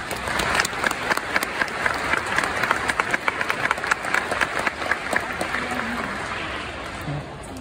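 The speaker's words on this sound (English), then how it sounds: "Please give him a round of applause." Audience applause at a symphony volunteer association event honoring young artists, a crowd clapping briskly and evenly, fading near the end as a voice begins.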